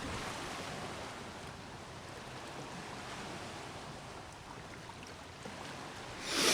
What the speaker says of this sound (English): It starts with the ocean.